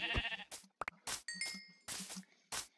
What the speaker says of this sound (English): And there's a white sheep.